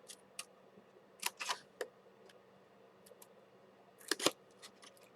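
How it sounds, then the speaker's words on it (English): Scissors snip into a sheet of paper to cut out a small corner, a few sparse, crisp clicks and short bursts of cutting spaced irregularly against quiet room tone, with no talking. "We're going to cut this corner out."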